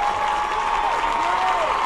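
An American football crowd roars and applauds in a steady, loud wash of cheering as a home-side player breaks a long run, with no clear talk over it.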